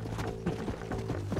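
Horse hooves clopping in Red Dead Redemption, a steady slow trotting rhythm of repeated thuds, close and fairly loud, over game background sound with no talking.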